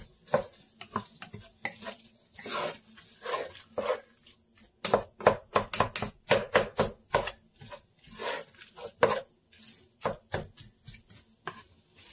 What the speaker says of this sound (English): I'm going to add the seasonings to it. And give it a good stir